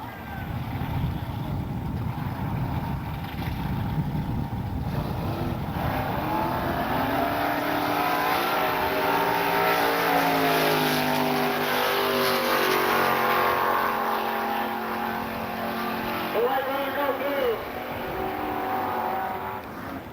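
A Dodge Verada drag racing car makes a 9-second-zone run at a KCIR drag strip, its engine roaring loud and rising in pitch as it accelerates away, with a faint crowd-like wash beneath.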